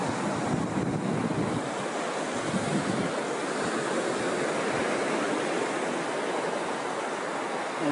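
Ocean surf rolls onto the beach at Cha Am, Thailand, a steady, loud wash of waves with wind buffeting the microphone, continuous and with no voices.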